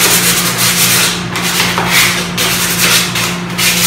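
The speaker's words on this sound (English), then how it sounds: "I'm just sanding it down" Steady rasping strokes of sandpaper rubbed back and forth over a wooden table by hand, close up and fairly loud, with no voices.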